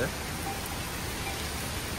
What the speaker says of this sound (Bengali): এত বৃষ্টি হইতেছে